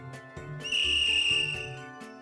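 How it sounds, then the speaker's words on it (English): A loud, shrill whistle blast in the Reader Rabbit 1st Grade game Capers on Cloud Nine, held steady for about a second over playful background music, then fading back into the tune. "All right, there's the whistle."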